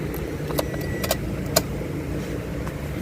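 Car keys jangle and click as a key is turned to the on position in a Toyota Innova automatic ignition, a few bright metallic chinks over a low steady background hum inside the vehicle.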